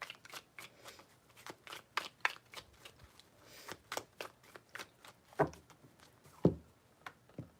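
A tarot deck shuffled by hand nearby, heard as a steady series of soft, papery flicks and slaps at an irregular quick rhythm, fairly faint and alone.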